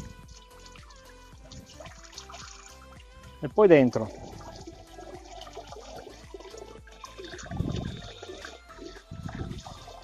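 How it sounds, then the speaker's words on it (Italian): A water jet splashes onto a rainwater filter being rinsed clean for a drip irrigation system, with a sharp burst of spray midway and ongoing running water under someone talking. "Con il getto dell'acqua, semplicemente togliamo prima il più grosso"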